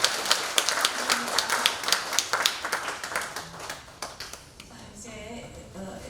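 A small audience at a lecture on Joseon-era portraits claps. Distinct, fairly sparse hand claps come in an uneven rhythm, then thin out and fade, leaving a quieter room with some faint tonal sounds.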